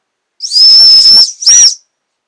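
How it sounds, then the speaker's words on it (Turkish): A shrill, piercing whistle blown in two blasts, a long one followed by a shorter one, loud and close with no other sounds. "düdüğün sesine bakalım isterseniz"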